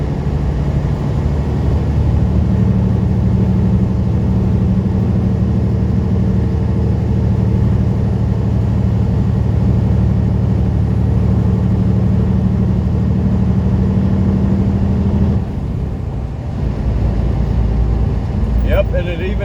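A long-haul semi truck heads east on Route 152 out of Gilroy, California. Its engine gives a loud, steady droning rumble that briefly drops and changes pitch near the end, as if the truck shifts gear.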